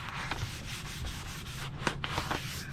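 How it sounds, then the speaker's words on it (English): Sandpaper rubbed over the wooden neck of a cheap guitar kit, repeated close scratchy back-and-forth strokes in an uneven rhythm with no voice. "It's amazing, just a little bit of sandpaper, because it was a little rough"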